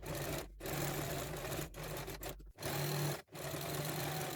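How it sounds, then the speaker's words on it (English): Sewing machine stitching along the folded edge of a fabric strip for a bow headband, a close, steady mechanical hum that stops and restarts in a few short bursts. "You're going to take this to your sewing machine as well, fold it into two and sew along the edge of your fabric"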